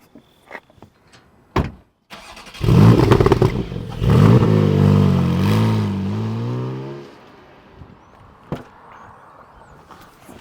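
Porsche 718 GT4 being driven on the road while freshly broken in, its engine rising loudly with harmonic revving for several seconds, preceded and followed by faint clicks and quieter cabin noise.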